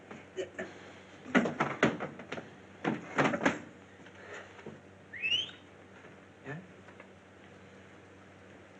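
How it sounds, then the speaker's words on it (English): A paperboy whistles outside in a 1945 film scene: one brief, faint rising whistle cuts through thumps, clicks and people talking in the room. "don't you hear the paper boy whistling?"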